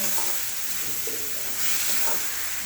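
Tomatoes sizzle and hiss steadily in hot oil in a pan of fish curry, a continuous close frying crackle with no talking.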